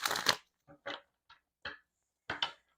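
Tarot cards being shuffled, a loud riffle burst followed by several short, soft card slaps and flicks spaced apart, close and with no voices.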